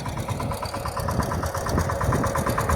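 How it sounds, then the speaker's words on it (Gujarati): A small power tiller engine runs steadily close by, a fast, even chugging pulse that never lets up, with no voices. "તો આ રીતનું ટ્રેક્ટર હાલે છે આ પડાની અંદર"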